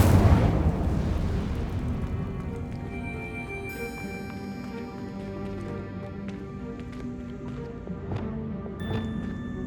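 An Incendio fire spell cast in Hogwarts Legacy on PC opens with a loud booming burst, then fades into a long ringing tail of sustained tones dotted with sharp pops and crackles.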